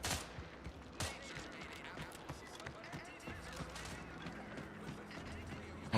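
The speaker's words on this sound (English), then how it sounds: "Speedy pistol." Rapid pistol fire in the video game The Outer Worlds 2, a string of sharp shots punctuating a busy backdrop of game sounds, with a voice talking partway through.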